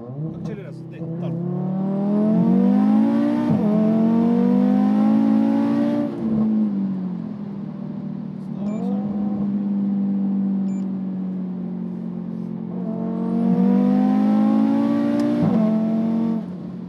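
A 650 hp Audi TT RS accelerates hard, its five-cylinder engine rising in pitch through repeated pulls with brief gear-change dips, loud and close inside the car.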